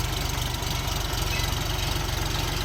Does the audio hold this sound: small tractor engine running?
yes